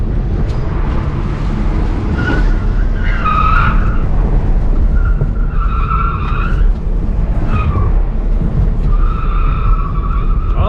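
A race car on a track with a steady loud engine roar and repeated tire squeals from skidding through corners, heard continuously up close without talk.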